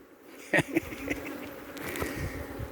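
Honey bees buzzing close around a beekeeper, a wavering insect drone with a sharp loud buzz passing near the microphone, then a steady hum from several bees.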